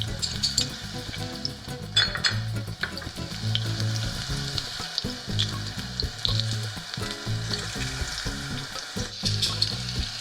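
Pressed garlic sizzles loudly in a pot while being cooked for Brazilian black beans and rice, with a steady frying hiss, repeated stirring scrapes and a few light clinks of metal, close up.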